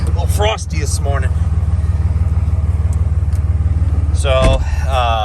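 A cold-started Cummins 5.9 diesel in a Ram truck idles with a steady, close, even rumble on a frosty morning, while someone talks over it at the start and end.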